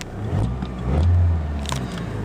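A 1994 Saturn SL2 Homecoming Edition engine runs with a steady, close, low rumble and slight swells in level, with no voices.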